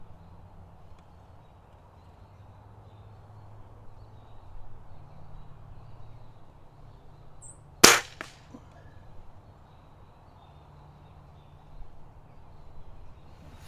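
A single sharp crack from a budget springer air rifle fired at a target 50 yards away outdoors, a brief loud snap against faint steady background hum, with a quieter knock just after.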